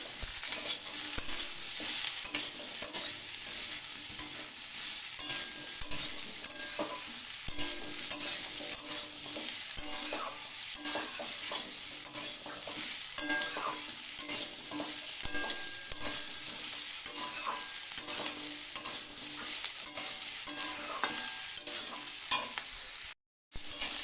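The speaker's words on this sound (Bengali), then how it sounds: "সমস্ত সবজি ভালো করে কষিয়ে নিলাম।" Sliced bitter gourd and other vegetables stir-fried with salt and turmeric, a continuous bright sizzle broken by frequent scraping stirs, with a brief cutout near the end.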